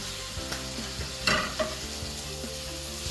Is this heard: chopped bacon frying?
yes